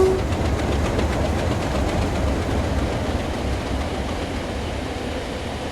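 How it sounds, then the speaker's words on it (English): A train in a simulator game runs steadily along a logging branch line past a junction, giving a continuous rumbling roll with faint rhythmic clatter at an even, fairly loud level throughout. "The train diverges onto the Logging branch at Minestow Junction"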